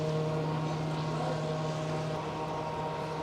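Powerful patrol boat engines running in the port of Klaipėda, Lithuania: a steady low droning hum with a strong tonal pitch, continuous and even, heard from some distance with no voices over it.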